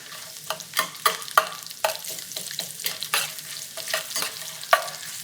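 Garlic going into a hot pan of browning sliced nuts, with a close sizzle broken by sharp scraping and clattering stirs at an uneven rhythm, no talk.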